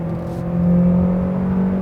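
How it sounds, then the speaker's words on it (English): A 2020 Hyundai Sonata switched into sport mode accelerates at night, its steady engine hum rising slightly in loudness about halfway through, heard from inside the cabin with no talking. "now let's put the car into sports and drive just a little bit."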